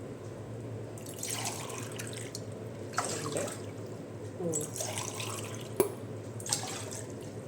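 Water poured into a cooking pot for rice flour dumplings splashes in several short, quiet bursts separated by calmer stretches, with a small clink partway through.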